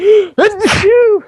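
One person sneezes loudly and close up, a sharp intake followed by a quick voiced burst and a short trailing exhale, with nothing else heard.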